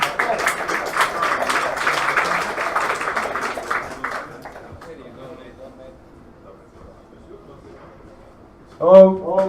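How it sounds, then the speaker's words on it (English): Scattered audience clapping at a game development meetup, fairly loud at first and then thinning out and fading, followed near the end by a brief burst of a voice. "Applause, please."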